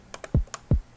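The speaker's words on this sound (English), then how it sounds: "you'll probably find these trap kicks that sound like this." Two punchy trap kick drum samples in FL Studio, each a short deep thump with a falling pitch, set among lighter clicks in a quick pattern, no talk.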